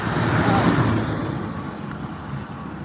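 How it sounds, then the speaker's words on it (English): Busy road traffic forms a steady, loud wash of engine and tyre noise close by, holding constant throughout without breaks. "I'm sure you can hear all the noise in the background."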